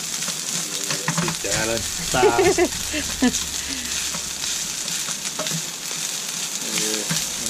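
Tofu sizzles steadily in a hot pan on a road-trip cooking setup while it is stirred and broken up, a constant close frying hiss with a few brief spoken words over it.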